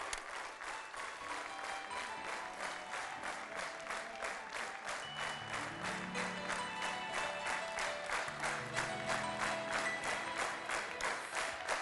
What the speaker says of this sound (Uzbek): Mana bu olqishlar sizga